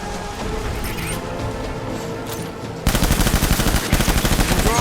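Loud automatic gunfire in Death Stranding, with sustained rapid bursts of close shots erupting suddenly after a quieter stretch of background noise.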